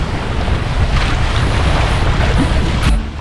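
Strong wind on Walensee lake while sailing: a loud, steady roar of gusts buffeting the microphone over rushing water and waves, with no voices.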